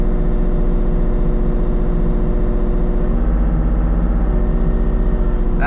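Kubota mini excavator dragging a shed that is not on wheels, its diesel engine droning loudly and steadily up close, with a slight shift in load partway through and no talking.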